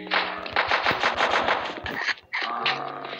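Rapid automatic gunfire in the zombies mode of Call of Duty Mobile, dense bursts of shots with a short pause near the end before firing resumes, loud and close, no talking.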